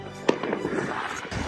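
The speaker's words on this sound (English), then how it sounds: "You could see people setting off fireworks in the entire city." Fireworks burst across a city in Iceland, with one sharp nearby bang followed by crackling and distant pops over a steady wash of noise.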